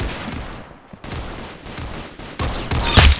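Rapid gunfire in the Roblox shooter Arsenal, a dense run of close, loud shots building toward a sharper burst at the end.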